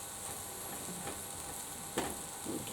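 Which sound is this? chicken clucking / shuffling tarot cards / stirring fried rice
stirring fried rice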